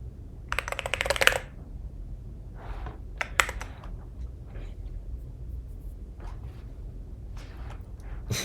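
A very clacky computer keyboard typed on in bursts, crisp rapid clicks in a dense flurry at first, then scattered short runs of keystrokes with quiet gaps, close to the mic.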